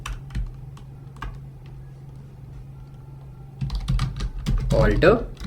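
Computer keyboard keys click in scattered taps while an SQL command is entered, then a quick burst of rapid typing follows near the end, with a person speaking over it.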